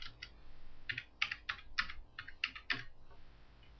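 Fingers typing an address on a computer keyboard, a quick run of about a dozen crisp, close key clicks in irregular bursts, then trailing off into quiet, with no voices.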